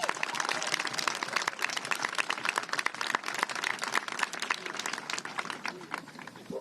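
Dense crowd applause at a pro-choice political rally in Washington state, many hands clapping steadily and fairly loud at a moderate distance, sustained for several seconds without talk.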